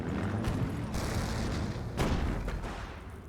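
Grenade blasts in a World War II video game set in France, two or three muffled booms with dull thuds amid a continuous rumble of battle, no voices.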